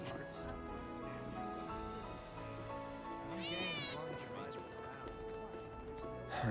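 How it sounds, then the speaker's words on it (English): A cat meows in Final Fantasy VII Remake Intergrade, with several short, rising mews over game background sounds while a person talks at the same time. "I hear a cat."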